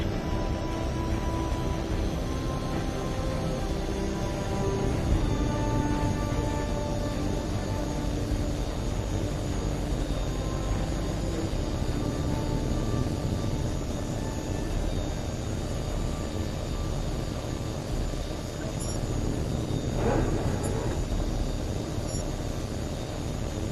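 A jet aircraft takes off in the Tom Clancy's HAWX 2 video game, a steady broad engine roar with a high whine building slowly throughout, fairly quiet and without speech.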